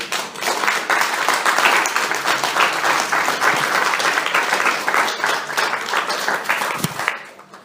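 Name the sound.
congregation applause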